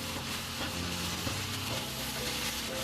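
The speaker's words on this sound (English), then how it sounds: "Cook it in the ghee for 2 to 4 minutes and keep stirring" Carrots frying in ghee over a high flame, a steady close sizzle that crackles evenly throughout with faint stirring scrapes and no talk.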